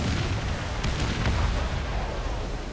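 Cannon fire from a sailing ship in Assassin's Creed IV Black Flag: a dense, continuous rumble of booming shots with a few sharper bursts near the middle, loud and close throughout.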